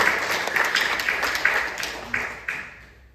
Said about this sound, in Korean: 우리가 다시 다 같이 한번 박수 한번 하죠.